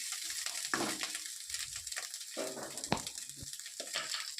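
Rice is stirred with vegetables in a frying pan at home, giving a steady sizzle broken by scraping and clattering stir strokes, close and moderately loud with no talking.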